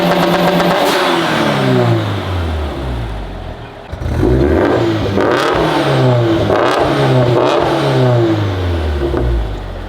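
A turbocharged Scion FR-S, started for the first time after sitting abandoned, revs hard and bounces against its 2-step limiter with crackling, popping bursts. The engine is loud and close throughout, with a brief dip near the middle and no talking.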